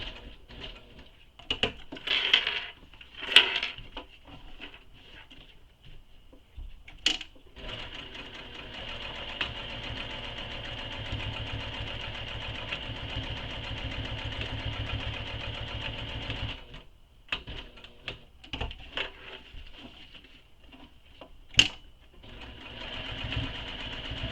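A sewing machine stitches a box with an X across a quiver sling, working close to the hardware: short start-stop bursts, then one long steady run of fast stitching at close range, ending in a few brief spurts.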